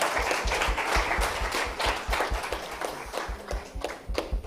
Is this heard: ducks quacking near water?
no